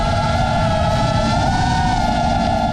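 Raw FPV drone audio: a steady, loud motor whine with a droning high-pitched tone, wind-like noise underneath, continuous throughout with no voices.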